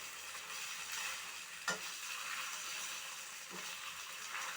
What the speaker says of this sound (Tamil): வெஜிடபிள்ஸ், ஆனியன் நம்ம சேர்த்தது எல்லாம் ஒன்றை மாதிரி மிக்ஸ் ஆகணும்.